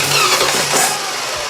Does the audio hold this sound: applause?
no